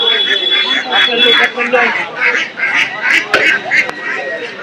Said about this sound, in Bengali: দেশি হাঁসের পাশাপাশি দেখেন খুবই চমৎকার সাইজের চীনা হাঁস